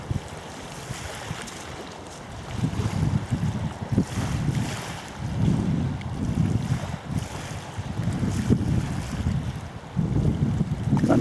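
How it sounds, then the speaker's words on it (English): Gusty breeze buffeting the microphone on a river pier, with low rumbling surges of wind and water swelling and fading in irregular waves, no voices. "Got a nice breeze for it anyway."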